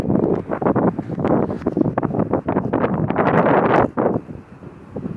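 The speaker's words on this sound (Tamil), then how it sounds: "அப்படியே ஒரே காற்று." Strong, cold wind buffets the microphone in gusty roaring bursts among apartment buildings, loud and close, with no voices, easing briefly near the end.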